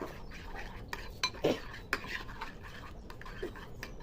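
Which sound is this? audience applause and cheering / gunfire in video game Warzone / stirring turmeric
stirring turmeric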